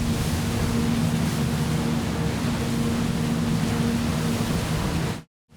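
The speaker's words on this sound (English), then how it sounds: "It's a boat out on the water." A boat out on open water, with a constant loud rushing wash of hull and water noise over a steady low engine hum, running evenly for several seconds before cutting off abruptly.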